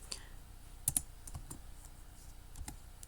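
Keys tapped on a computer keyboard while a file is saved, heard as a few quiet, scattered clicks with a couple of sharper strokes and no talk over them.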